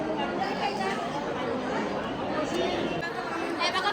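Dense crowd chatter from a packed foot pilgrimage to the Varadvinayak Ganesh temple at Mahad: many overlapping voices in a steady, close murmur, with a nearby voice talking over it.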